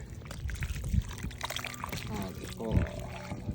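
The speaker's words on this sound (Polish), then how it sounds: "dodamy trochę wody" Water poured into a pot of beef and pork tripe soup, a soft bubbling pour and trickle under a man's speech, faint and fairly close.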